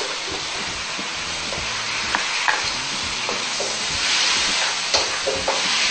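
Adobong tuyo, dried fish cooked with soy sauce, sizzles and hisses steadily in a pan while a utensil scrapes and stirs through it, with a few sharp clicks against the metal, close up and with no talking.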